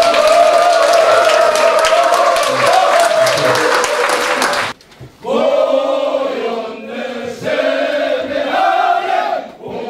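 A crowd at a high school alumni association event bursts into loud, dense applause for about five seconds, then the clapping cuts off and gives way to raised voices calling out together.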